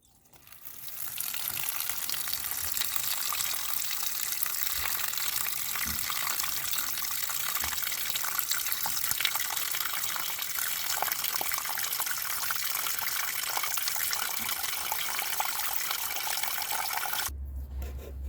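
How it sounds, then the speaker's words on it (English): Water, collected rainwater, poured steadily into a container of chicken feed pellets and scratch grain for fermenting, a continuous close gushing splash that runs for most of the clip and then stops abruptly. "And I'm going to add the water to this."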